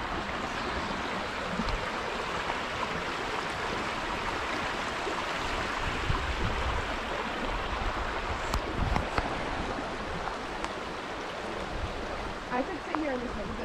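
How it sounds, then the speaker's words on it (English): A babbling brook running through woodland gives a steady, close wash of flowing water for the whole stretch, with a few faint higher chirps near the end. "Guys, we found a babbling brook."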